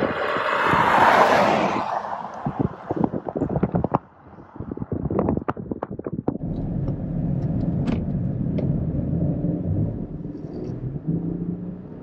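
BMW X5 xDrive45e hybrid driving off-road as the driver gives it some throttle, a steady motor and tyre rumble with bumps, knocks and wind buffeting on the microphone.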